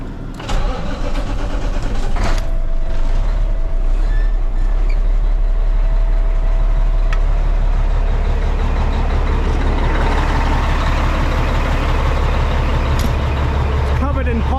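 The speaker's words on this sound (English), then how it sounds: "Get the truck started." A truck engine cranks and catches on a Monday morning, then settles into a loud, close, steady rumble that keeps running for the rest of the clip.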